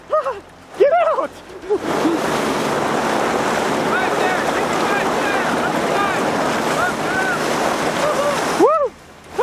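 Water splashes at a lake with a boat nearby, a long loud burst of spray and wind-blown rush in the middle while voices shout and exclaim before and after.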